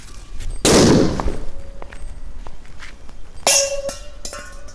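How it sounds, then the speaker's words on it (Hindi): A Lakshmi bomb firecracker bursts beneath an upturned bowl, giving one loud sharp bang followed a few seconds later by another crack, with smaller thuds and rattles between. "पहले हम टेस्ट करेंगे इस वाली लक्ष्मी बम को"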